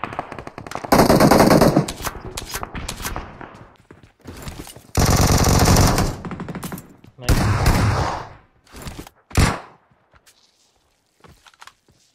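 Automatic gunfire in a 4v4 mobile battle-royale shooter match, several loud bursts of rapid machine-gun fire separated by pauses, with shorter single shots near the end and players talking over the action.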